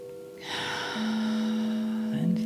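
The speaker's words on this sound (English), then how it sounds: "And take a breath." A slow, audible breath drawn in during a guided peace meditation in a quiet room, a soft rushing inhale that swells and holds for about two seconds beneath a steady low hum.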